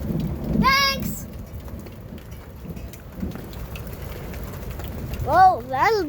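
Steady rain patters outdoors through a thunderstorm with low rumbling thunder, while a voice briefly exclaims near the start and again toward the end.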